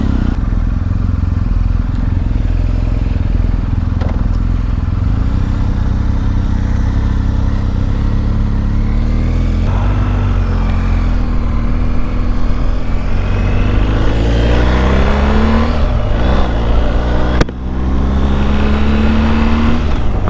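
A 2020 BMW GS 1250 motorcycle idles with a steady low engine drone, then revs up with rising pitch as it pulls away and accelerates, wind and engine note dominant, close and loud.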